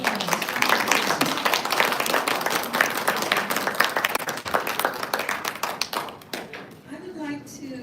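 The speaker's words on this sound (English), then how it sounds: "Please give them a big applause" An audience applauds a group of authors at a world literature sharing event, with brisk, steady clapping from many hands that thins toward the end as a voice begins to speak.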